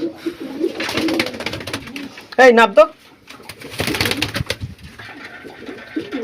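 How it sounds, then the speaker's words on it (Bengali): Fancy pigeons that have escaped their cage coo close by, with a brief burst of calls, among bouts of talking. "আর পায়রাগুলো বেরিয়ে পড়ছে।"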